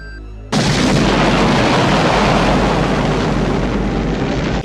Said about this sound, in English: the boat explosion was better than the helicopter explosion